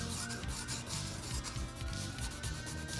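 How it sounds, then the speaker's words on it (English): Sandpaper buffs guitar frets in quick back-and-forth strokes, a close, rhythmic scratchy rubbing that continues steadily throughout. "this is just some sandpaper I got off Amazon, but it will do the job quite nicely to continue buffing these past where I have it with the fret"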